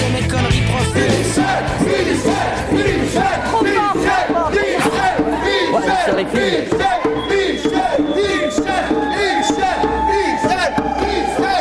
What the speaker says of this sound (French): la frénésie continue par une parade délirante afin de rameuter la foule pour le spectacle du soir